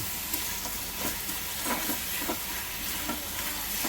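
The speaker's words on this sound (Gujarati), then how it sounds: "હવે ટામેટાને થોડુંક પકાવશું" Tomatoes cooking in a pan for a spring onion and sev tomato curry, giving a steady sizzle and hiss with a few soft stirring scrapes, fairly close and continuous with no talking.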